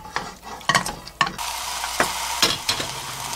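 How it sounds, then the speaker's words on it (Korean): Stir-frying in sesame oil in a pot on the stove for a soy-braised Andong chicken dish: soft sizzle under several sharp scraping and stirring clicks, close and fairly quiet, with no talk. "참기름에 한번 볶아주겠습니다."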